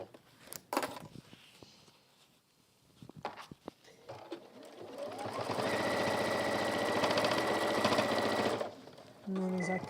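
A sewing machine runs in a fast, loud, even whir through water-repellent fabric for several seconds after scattered handling clicks, then stops and restarts briefly.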